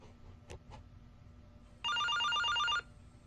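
An indoor telephone rings in one loud, rapid electronic trill lasting about a second, heard alone after a couple of faint knocks in a quiet room.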